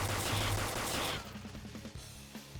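Rapid bursts of gunfire from a Persona 5 Royal battle, a dense volley at first, then thinning into scattered sharp shots near the end.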